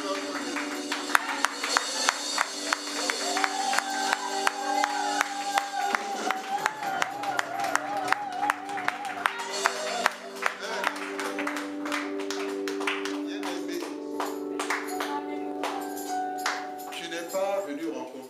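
A church congregation claps and acclaims God during a worship service, with steady applause and crowd voices running under sustained sung or musical tones throughout.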